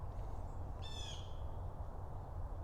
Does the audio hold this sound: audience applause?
no